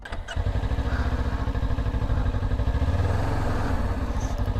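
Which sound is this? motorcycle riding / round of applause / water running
motorcycle riding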